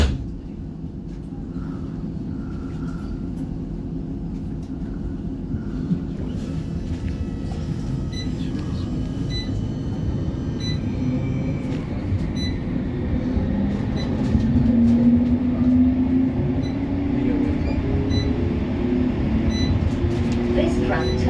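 West Midlands Metro tram departing Soho, Benson Road stop, a low continuous rumble that builds as a motor whine rises midway, with an onboard voice heard over it.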